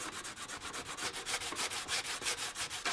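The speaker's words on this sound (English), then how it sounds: "So we're going to scrape that down." Steady back-and-forth scraping of excess glue off a surface during a Ford Bronco build, a rhythmic series of raspy strokes repeating about every quarter second, close and moderately loud, with no talking.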